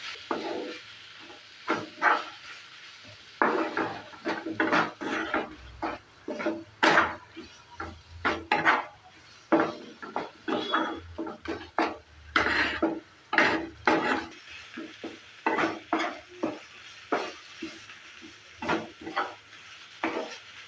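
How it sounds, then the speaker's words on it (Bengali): Grated paneer for paneer bharta is stirred in a pan, with a long run of quick, rhythmic scraping and rubbing strokes over a faint sizzle. "দেওয়ার পর আবারও নেড়ে চেড়ে নিচ্ছি।"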